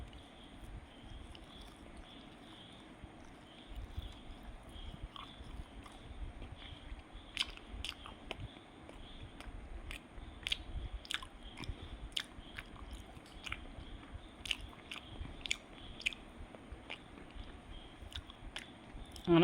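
Someone eats a homemade pancake close to the microphone, with soft bites and steady, quiet chewing sounds throughout.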